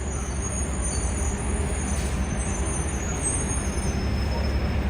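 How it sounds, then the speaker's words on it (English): Steady, loud street traffic on a busy New York road, with a continuous low rumble of buses and cars passing close by and no pauses in the roar. "all the noises, starting from noises of cars, buses, honking, emergency vehicles, construction"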